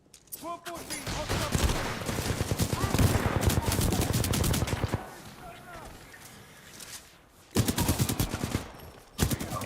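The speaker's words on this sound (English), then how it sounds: "There's a gun called the Mozambique. I gotta know what it's like. Triple barrel pistol." Heavy gunfire in the video game Titanfall 2 from the Mozambique triple-barrel pistol, long dense bursts of shots with loud blasts near the end, under game voices and effects.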